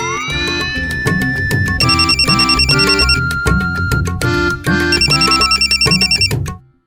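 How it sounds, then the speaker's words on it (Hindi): A loud telephone bell rings repeatedly in rapid bursts, layered with a bright electronic ringtone melody, continuing for several seconds before cutting off. "फोन की घंटी बज रही है"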